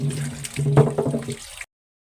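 Sandy potatoes being rinsed and swished in water, a short close splashing and sloshing burst that cuts off abruptly into silence.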